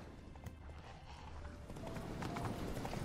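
Horse hooves clip-clop steadily as Roach is ridden in The Witcher 3, a continuous rhythmic trot over game ambience, fairly close and moderately loud throughout.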